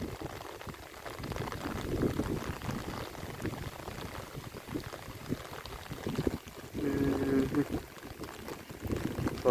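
Rainwater runs and pours steadily down into a flooded rice field channel, a continuous close splashing flow with brief surges, and no voices.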